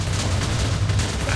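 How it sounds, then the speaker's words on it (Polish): A loud, sustained rumbling blast from an arena being blown up in Minecraft, dense low booms rolling continuously through the whole moment with no voices over it. "Będzie wybuch."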